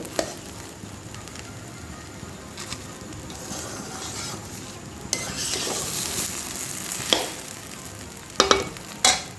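Gobindobhog rice dry-frying in a pan with a steady, close sizzle, while a utensil stirs and scrapes through the grains, adding occasional brighter clinks and scrapes toward the end; no one speaks.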